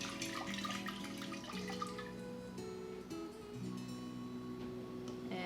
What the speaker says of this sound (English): oftentimes when you go and swirl it all around like I'm doing, it gets up on the sides of the jars